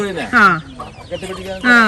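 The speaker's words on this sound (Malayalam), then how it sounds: "കോഴീനെ നല്ല നാടൻ കോഴികളെ" Native country chickens cluck in quick bursts close by, several calls overlapping with brief pauses, loud and clear with no talking.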